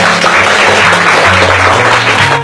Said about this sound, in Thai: ปรบมือให้เพื่อนหน่อยค่ะ